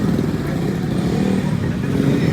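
A BMW 1000cc superbike engine makes a loud, steady, close-up roar that runs without a break, with a dense low rumble and some mechanical clatter.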